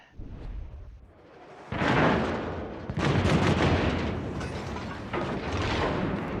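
Naval guns fire in a World of Warships battle, several heavy booming salvos with rumbling tails and mechanical clatter, loud and overlapping, with no voice over them.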